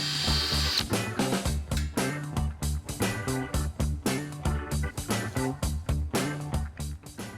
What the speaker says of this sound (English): We'll be using our supplied number 44 drill bit to oversize 5 holes in this plate.